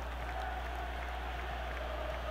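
A stadium crowd in a PES football video game, Flamengo against Grêmio in a 2019 Libertadores semifinal, gives a steady low roar of cheering and faint applause throughout, with no clear voices.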